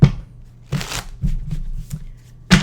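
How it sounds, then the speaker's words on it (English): A deck of tarot cards being shuffled up close, quick papery riffles and slaps arriving in short, uneven bursts with quiet gaps between them. "2 more shuffles here"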